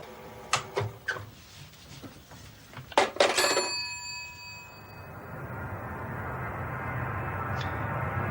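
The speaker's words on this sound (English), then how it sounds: "Go on then, Kenny, why did the phone make that little dinging sound when you put down the receiver" A telephone receiver is set back onto its cradle with a couple of plastic clacks and a brief, ringing bell ding that fades out. Soft background hiss follows.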